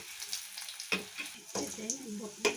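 Bottle gourd kofta balls fry in oil as they are stirred and turned. A soft sizzle runs under a few distinct scraping and clinking stir strokes, with a faint voice now and then.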